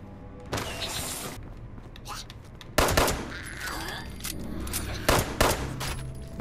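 Gunfire in the video game Fallout 76 comes as several loud, sharp shot bursts at irregular intervals, each with a booming tail, over a background of in-game ambience.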